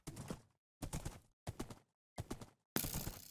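Horse hooves clopping in Minecraft, sounding as four separate bursts of footfalls with short gaps between them, ending in a louder, brighter burst.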